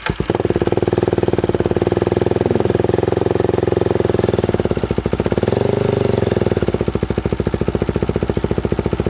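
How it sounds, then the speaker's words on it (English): A Polaris Predator sport quad's small engine idles nearby with a steady rapid putter, loud and close, wavering slightly in pitch partway through, no voices. It is a barn find with a new exhaust fitted. "Once it warms up, it'll idle better."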